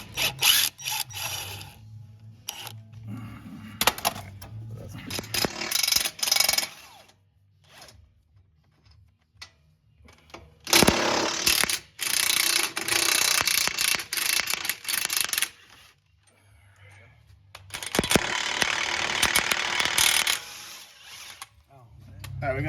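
A ratchet turns 10 mm bolts on the emergency-brake bracket under a Lincoln MKX / Ford Edge AWD during rear differential work, giving bursts of rapid clicking separated by quieter pauses, with talk at times.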